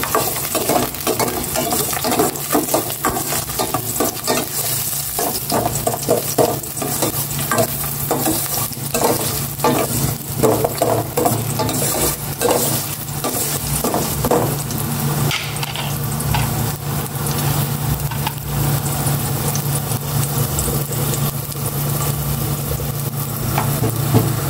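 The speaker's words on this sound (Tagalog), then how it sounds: "Una kong igisa itong luya." Ginger sautéing in hot cooking oil, a steady dense sizzle with repeated scraping stir strokes running throughout, loud and close with no talking.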